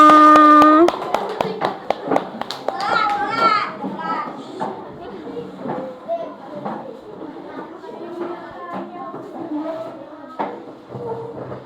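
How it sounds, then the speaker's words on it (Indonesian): Children in a classroom clap their hands amid lively chatter and play, with scattered sharp claps under a busy wash of young voices. "Tepuk tangan untuk kita semuanya."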